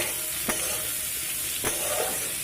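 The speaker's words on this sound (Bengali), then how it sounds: "এই যে ফুলকপি আলু ভাজছি।" Cauliflower and potato sizzle loudly in a pan, with two sharp scrapes of a spatula stirring them through the steady frying hiss.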